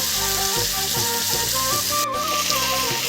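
Chicken and potatoes frying in a pan while being stirred, with a steady loud sizzle and occasional scraping stirs, heard under continuous music.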